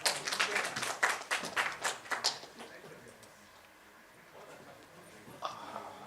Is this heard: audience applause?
yes